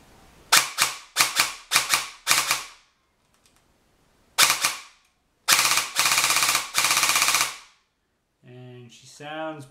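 Rapid bursts of mechanical clattering gunfire from an airsoft gun fitted with a BTC Spectre V2 FET, several short full-auto strings and one longer burst as the selector plate shifts, close and sharp, followed by a voice.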